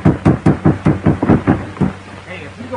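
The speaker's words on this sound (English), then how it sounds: "Knock again, doctor." Knocking on a wooden door in an old western setting, about eight firm raps in an even rhythm, close and loud, followed by a quiet pause.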